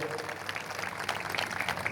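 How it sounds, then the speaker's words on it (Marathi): Audience applause for performers at a Maharashtra public event, a dense patter of clapping hands sustained across the short stretch, with some voices mixed in. "कलाकारांसाठी जरा जोरदार टाळ्या वाजवा"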